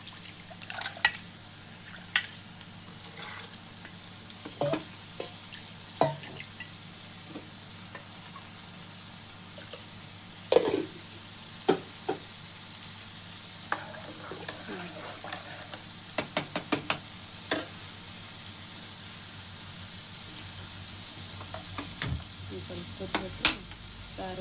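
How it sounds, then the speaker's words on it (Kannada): Saaru, a curry, boils gently in a pot, with a soft bubbling hiss under scattered sharp clicks and taps of a spoon against the vessel, faint and close. "ಈಗ ಇದನ್ನು ಇದರಲ್ಲಿ ಹಾಕಿ ಕುದಿಸ್ಬಿಡ್ತೀನಿ"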